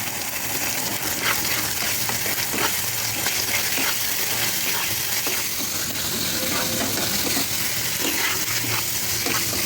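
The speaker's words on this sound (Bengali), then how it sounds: "মশলাটাকে কষিয়ে দেবো। টমেটো দিয়ে দেবো, টমেটো আর একটু সোয়া সস।" Spice paste with tomato and soy sauce sautéing in a pan, a steady broad sizzle with scraping stir strokes throughout, close and continuous, no talking.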